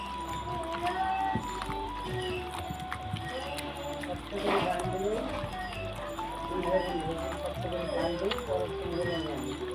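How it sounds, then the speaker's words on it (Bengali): Chicken pieces are kneaded by hand with spices and mustard oil, producing wet squelching and sloshing sounds close up, while someone talks over them. "এখন আমি সবগুলো ভালো করে মেখে নিব।"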